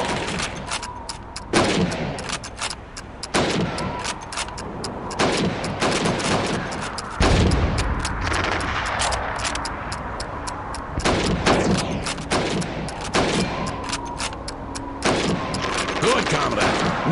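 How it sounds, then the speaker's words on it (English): Rapid rifle gunfire in the Call of Duty training course, shooting helmets against a timer, with dense sharp shots packed through the whole stretch, loud and close over a steady game background. "Now, let's see how well you can do under pressure. You have 15 seconds to shoot the helmets."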